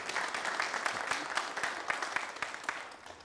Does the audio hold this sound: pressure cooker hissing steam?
no